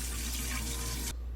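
Tap water running into a pot to cook rice, a loud close steady rush of flowing water that cuts off abruptly near the end, leaving a quiet hum.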